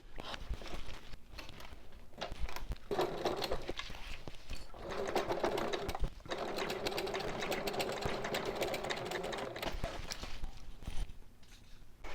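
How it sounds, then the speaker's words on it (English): A sewing machine stitches the side seams of a small fabric bag in steady, fast mechanical runs. There is a short pause near the start and another around the six-second mark, heard close up with no voices. "I've got the side seams stitched up"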